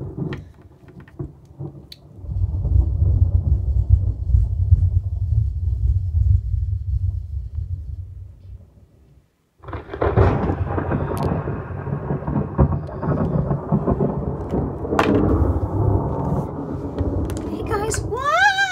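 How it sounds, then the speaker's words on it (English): Deep rolling thunder rumbles, breaks off briefly, then returns with rain and scattered clatter. "I hear very intense thunder."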